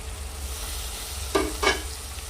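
Mutton curry with salt sizzles in a pan under a low steady hiss, and two quick scraping strokes of a spoon stir through it near the end.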